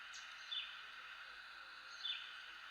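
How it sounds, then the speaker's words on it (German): Bird-song sleep track on an ODEJOI 64GB Bluetooth MP3 player: two short, bright chirps about a second and a half apart over a soft, constant hiss of background ambience. "Vögel."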